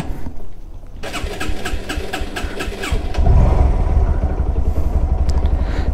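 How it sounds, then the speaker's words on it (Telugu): A warmed-up motorcycle engine starts with a short burst and settles into a steady, close, fairly loud idle that runs to the end. "బైక్ కూడా ఆల్రెడీ వార్మప్ అయితే చేశాను నేను"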